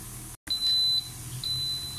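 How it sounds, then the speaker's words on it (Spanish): A Haceb refrigerator control board beeps an alarm once its sensor is unplugged, giving repeated short, high electronic tones over a low hum, with a brief click at the start. "En el momento de desconectar el sensor, nos va a comenzar a dar una alarma"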